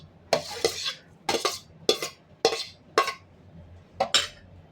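Boiled raw mango pieces drop into sugar in a metal pot in a series of about seven close, distinct clattering scrapes, spaced roughly half a second apart.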